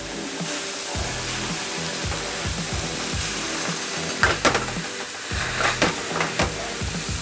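Ingredients for yellow mole scorch in a hot pan, a steady sizzle running throughout with rhythmic scraping and stirring strokes roughly every half second, louder clatters near the end; close and continuous, no talking.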